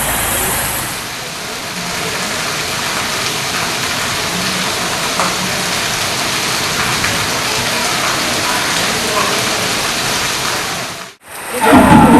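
Heavy rain in Hyderabad pours down in a loud, steady broadband wash mixed with road traffic noise, continuing unbroken before cutting off abruptly near the end.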